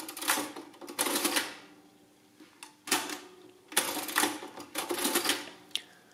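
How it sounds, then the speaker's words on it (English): A Barrett adding machine has its lever pulled repeatedly to add numbers, giving a series of sharp mechanical ratcheting clacks in bursts with short pauses between, close and clear. "You enter a number and pull the lever to add it to the main register."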